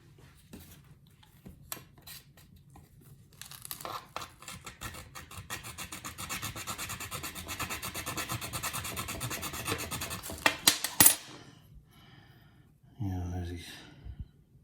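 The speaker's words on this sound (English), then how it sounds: "here you'll really see it here when I scrape it on this stone" A silver bar scraped back and forth on a testing stone, a close rasping rub in quick repeated strokes, with soft breaths and brief sounds between strokes.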